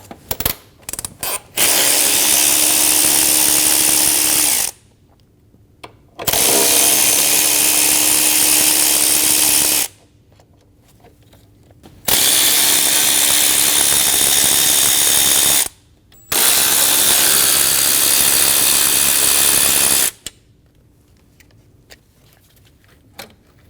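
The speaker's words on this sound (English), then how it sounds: "Using a T30 bit, we're going to remove the 4 screws for the throttle body." A power driver fitted with a T30 bit spins out the throttle body screws on a 2012-2022 Volkswagen Passat, running in four loud, close bursts of a few seconds each with quiet gaps between them and no talking.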